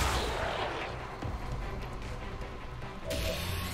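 A grenade explosion in XCOM 2 bursts with a loud initial blast, followed by rumbling debris and mechanical clatter as the noise settles, ending in a quieter game tone.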